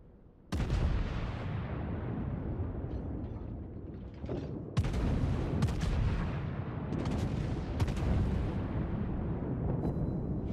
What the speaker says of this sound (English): All 3 of us are peppering him with one armor-piercing salvo after another